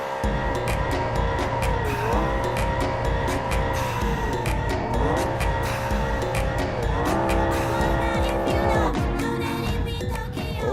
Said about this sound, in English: let's do a donut.